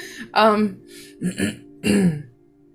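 Someone clears their throat harshly a few times in quick succession, with a short cough mixed in, close to the microphone.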